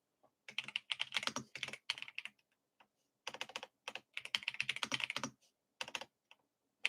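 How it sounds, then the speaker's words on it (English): Loud computer keyboard typing at a trading desk, close bursts of rapid clattering keystrokes separated by short pauses, with no talk. "Keyboard's so loud."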